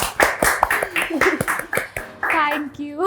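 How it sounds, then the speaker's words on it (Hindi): Scattered hand clapping from a small audience on a Hindi entertainment show, a few rhythmic claps under overlapping voices, ending with someone speaking. "ताली बजाओ"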